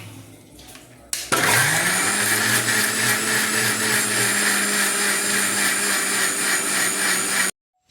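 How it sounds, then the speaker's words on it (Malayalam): A mixer grinder blending red aloe vera into juice, starting abruptly after a second of quiet, then a loud steady whirring hum with a rising motor pitch that runs for about six seconds before cutting off. "ഇനി നമുക്ക് മിക്സിയിൽ ഇതിനെ അടിച്ചെടുക്കാം."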